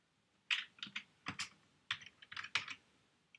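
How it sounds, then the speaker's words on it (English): Quiet, close typing of web code on a computer keyboard, with irregular bursts of crisp key clicks spread across a few seconds in a silent room. "I'll just type one and then copy and paste"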